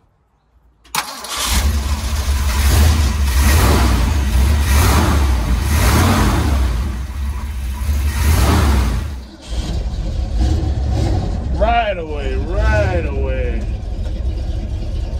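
A 1974 Ford F250 Custom engine cranks and catches with a loud roar, then settles into a rough, rumbling idle that is a little cold after an oil change, while a person talks briefly over it.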